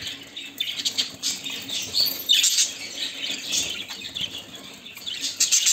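Birds flutter and splash, wings beating in repeated bursts with faint chirps mixed in, close and busy throughout.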